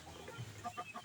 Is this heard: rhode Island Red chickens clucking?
yes